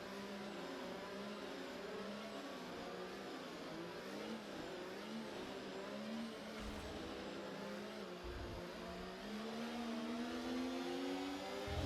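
Racing car accelerating hard at a safety car restart on the Singapore street circuit in a sim racing game, a steady, dense engine roar with rising and falling revs as gears change, continuous and loud with no voices.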